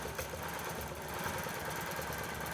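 A Gammill longarm quilting machine stitches across a T-shirt quilt, a steady close mechanical whir with a fast, even needle rhythm running continuously throughout.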